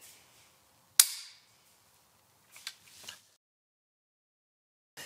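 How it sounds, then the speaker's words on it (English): A gun's trigger is pulled and the sear releases onto the firing pin, giving one sharp, loud metallic snap near the start, then a couple of softer mechanical clicks and a final click at the end, with silence between. "as I pull the trigger, that will let that fly up and hit the firing pin"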